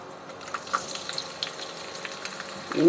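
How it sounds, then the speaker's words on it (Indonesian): Oil heats in a hot wok with a light, steady sizzle, scattered small crackles and pops, close and alone, swelling slightly at the end. "Baiklah, kuali sudah panas. Kita tuangkan minyak."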